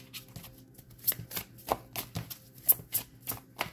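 Tarot cards being shuffled by hand, a steady run of crisp, close riffling taps and flicks that repeat in an uneven rhythm with no talking.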